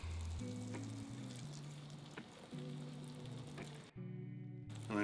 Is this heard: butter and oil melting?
yes